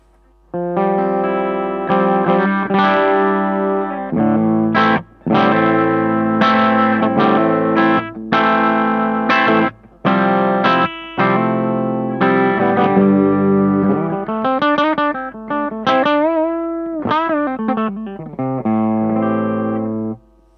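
A Sire Larry Carlton L7 electric guitar with overdrive, bridge pickup, controls wide open, plays a run of bright, crunchy distorted chords and notes with short gaps, ending in bending, sliding lines.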